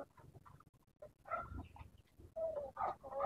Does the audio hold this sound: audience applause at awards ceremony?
no